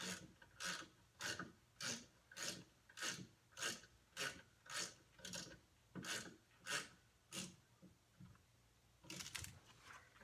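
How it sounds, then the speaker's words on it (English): Ratchet cranking on the rear brake caliper bolts of a 2003 Honda CR-V, a steady run of about sixteen close, loud raspy clicking strokes with short gaps, no talk. "let's tighten both bolts on the caliper first"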